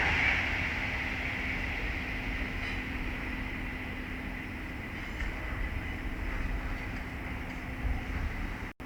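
An Avanti West Coast passenger train from Manchester Piccadilly to London Euston passing Willesden Junction on the West Coast Main Line, a steady broad rushing rumble with a faint high whine, held at a fairly constant level.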